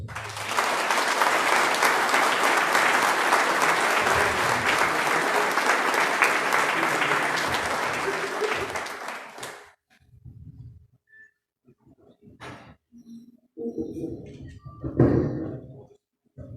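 A conference audience in San Juan del Río breaks into sustained, dense applause for nearly ten seconds before it cuts off, followed by scattered quiet sounds and brief speech.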